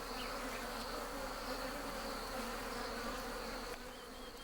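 Bees swarm around a freshly harvested wild honey nest, their dense, continuous buzz close and steady, easing slightly near the end.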